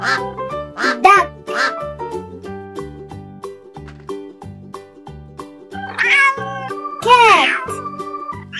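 A cat meowing repeatedly in short, loud, close calls, mixed with other tonal animal sounds, including a quack-like note, in a steady sequence.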